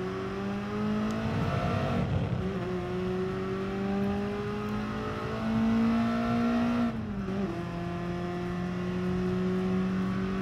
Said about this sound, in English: They really did a good job improving the car engine sounds for this game over previous Gran Turismos.